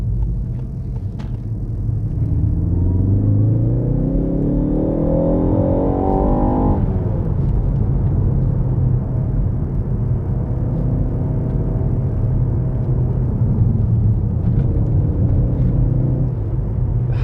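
A Ford Focus ST engine heard from inside the cabin, rising through a rev build and then dropping sharply as the engine blips to match a shift, before settling into a steady loud drone.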